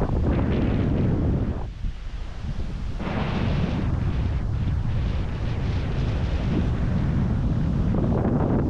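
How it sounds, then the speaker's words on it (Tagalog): Strong wind at a seaside campsite in Unisan, Quezon, roars and buffets the microphone continuously, with a brief lull before gusts pick up again, loud and close. "Lakas ng hangin dito."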